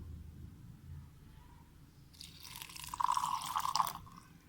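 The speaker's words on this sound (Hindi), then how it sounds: "इसमें मैंने थोड़ा सा ये पानी डाला है।" A little water is poured into a chutney of potato, ginger and red chilli, a short splashing trickle near the end of a quiet kitchen moment.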